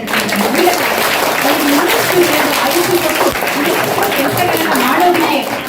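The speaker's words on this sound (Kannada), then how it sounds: "ಮೇಡಮ್ ಜೋರಾಗಿ ಚಪ್ಪಾಳೆ" Loud, sustained applause from a school audience at a gathering in Mysuru, dense clapping filling the room steadily from start to finish with a murmur of voices beneath.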